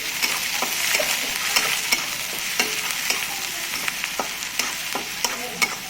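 Finely chopped onion fries in hot oil in a pan while cooking cabbage kachori, giving a continuous sizzle broken by regular scraping knocks as it is stirred.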